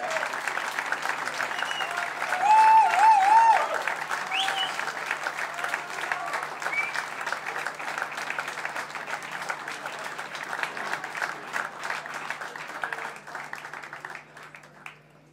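A lecture audience keeps up long, dense applause at the end of a music talk, with a brief cheer or whistle early on, and the clapping thins and fades out near the end.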